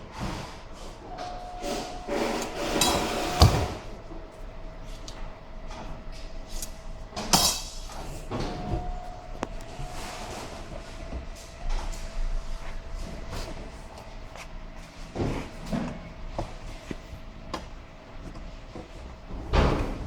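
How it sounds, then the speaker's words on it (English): Metal side-mount drawer glides slide into plastic brackets inside a 3-drawer base cabinet, giving scattered clicks, knocks and sliding scrapes at close range, spaced out over a quiet hum. "To hook up the glides, simply slide them into place inside the plastic brackets."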